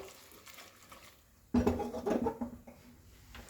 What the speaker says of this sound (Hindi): सारे सब्जी डाल देने के बाद हम हांडी को थोड़ा ऐसे हिलाएंगे ताकि दाल और सब्जी अच्छे से मिक्स हो जाए।